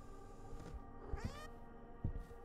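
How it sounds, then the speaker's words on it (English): A cat meows in the horror game Demonologist, sounding two or three short, drawn-out cries over a low, eerie ambient hum, with a few soft thumps around them. "Still don't know what that cat means."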